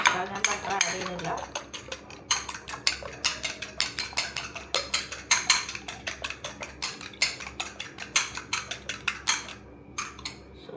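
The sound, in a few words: beating eggs with a fork in a bowl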